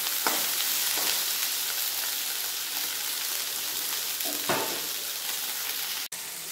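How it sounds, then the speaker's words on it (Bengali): Salted okra (bhindi) fries in hot oil in a pan, producing a loud, constant close sizzle with occasional stirring scrapes. "ভেন্ডি ভালোভাবে ভেজে নেব।"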